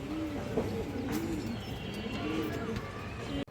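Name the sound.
China Khaki pigeon cooing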